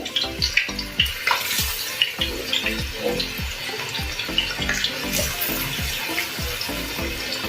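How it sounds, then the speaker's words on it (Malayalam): Pieces of fish are slid into hot oil for a homemade fish pickle, setting off a loud, continuous bubbling sizzle broken by repeated sharp splashes and pops as each batch drops into the pan. "ഇനി നമുക്ക് ഈ മീൻ കഷ്ണങ്ങൾ വാരിയിടാം എണ്ണയിലേക്ക്"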